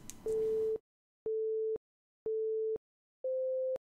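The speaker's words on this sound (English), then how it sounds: "I like beeps because it is relatively short, it's still an alarm sound basically" A short repeating alert tone from the 'beeps' sound in the Coinigy trading platform: four evenly spaced half-second beeps, steady and clean, with the last one slightly higher, heard alone after a brief burst of background noise.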